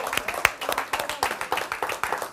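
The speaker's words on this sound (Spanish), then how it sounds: "les vamos a aplaudir a todos los futbolistas" A studio audience on an Argentine evening television show claps for footballers, a steady patter of individual hand claps of moderate loudness, somewhat sparse and uneven rather than a full roar.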